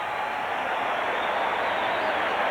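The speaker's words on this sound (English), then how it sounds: "the fans have something to cheer about here" A stadium crowd at a football game roars steadily and loudly, a dense unbroken wash of cheering with no pauses.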